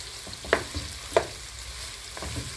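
Pork wet fry ingredients sizzling in a pan, with two sharp clinks of a utensil against the pan and soft stirring scrapes over a low frying hiss, fairly quiet and close.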